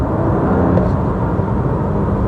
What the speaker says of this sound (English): It really sounds good in comfort.